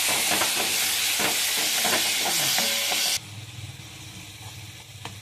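Loud, steady sizzling of onions and tomatoes frying in a pan, with stirring clatter, then dropping to a quieter simmering hiss.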